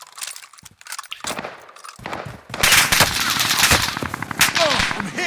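Warzone gunfire starts with a few scattered shots and short bursts, then becomes loud, sustained automatic fire with sharp cracks near the end. The shooting is close and dominant.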